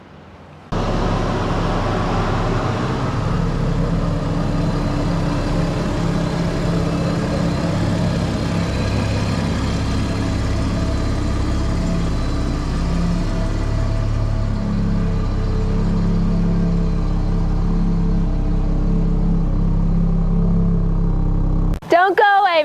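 A Ford Raptor truck with a five-link coil-spring rear suspension rumbles steadily nearby while crawling over off-road obstacles, a low engine drone lasting throughout before a brief sharp sound at the very end.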